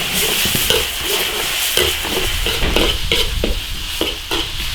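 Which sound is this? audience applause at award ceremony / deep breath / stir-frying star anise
stir-frying star anise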